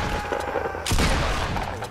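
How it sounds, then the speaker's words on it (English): Dense, rapid gunfire crackles continuously through a loud, noisy mix, with a heavier burst about halfway through. "I know y'all hear the gunshots."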